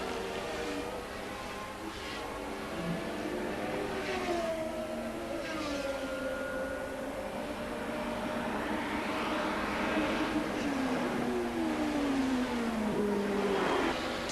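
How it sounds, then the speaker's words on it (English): 1981 Formula 1 turbo race cars roaring past on a circuit, with several engine notes rising and sweeping by at mid distance. The engine sound is fairly faint but continuous throughout. "while Prost's turbo has more power down the straight, Jones is right up behind him into the stadium"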